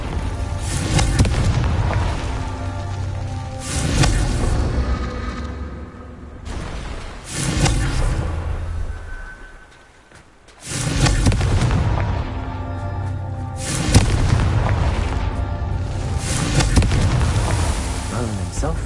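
Confringo fire spell explosions in Hogwarts Legacy, a series of loud booming blasts with rumbling tails, separated by brief lulls and one near-silent gap, with game voice sounds mixed in.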